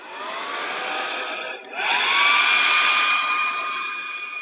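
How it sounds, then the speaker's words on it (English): A hair dryer blows steadily to dry a tea and coffee painting, a loud continuous whirring hum with a brief dip near the middle before the airflow resumes and holds, with no talking. "Grab your hairdryer."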